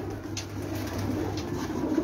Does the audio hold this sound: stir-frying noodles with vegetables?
no